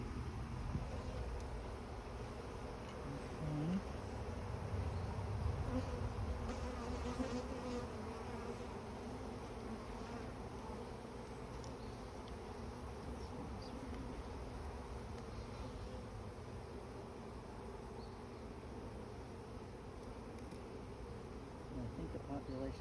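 Honeybees buzzing steadily inside an open hive during a colony inspection, a dense continuous drone that stays close and constant throughout, with faint brief voice in the background.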